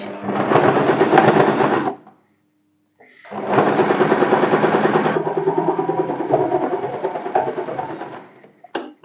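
A sewing machine stitches a fabric strap. Two loud, close bursts of rapid mechanical whirring are split by a brief pause, and a short final burst follows.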